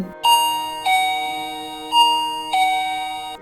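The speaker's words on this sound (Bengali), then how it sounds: "হঠাৎ কলিং বেলটা বেজে উঠল।" A doorbell sounds a two-tone ding-dong chime twice, clear and close, with the notes ringing out between presses.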